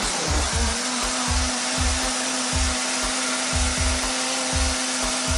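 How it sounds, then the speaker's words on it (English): A blender purées squash for Haitian soup joumou, a steady close motor drone with a humming tone and a regular pattern of low thumps as the contents churn, no talking. "Then you want to just start blending."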